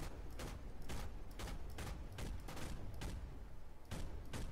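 Gunfire in the video game Project Reality, heard as a rapid series of loud, dense bursts that repeat at close range throughout.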